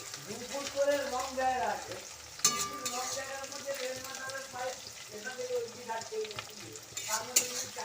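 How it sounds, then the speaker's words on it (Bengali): Onions frying in a pan for an egg khichuri, a steady sizzle with scraping stirs and clinks, while someone talks over it throughout. "আর এই যে এদিকে পেঁয়াজ ভাজছি"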